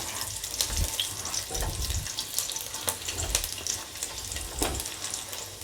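Whole garlic cloves fry in hot oil with a busy, continuous crackling sizzle and occasional stirring thumps, nearby and fairly loud.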